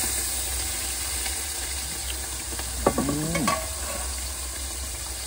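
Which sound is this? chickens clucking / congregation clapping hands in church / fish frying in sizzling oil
fish frying in sizzling oil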